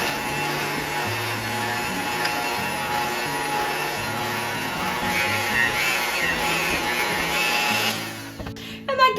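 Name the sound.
electric hand mixer mixing cookie dough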